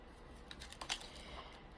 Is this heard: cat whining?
no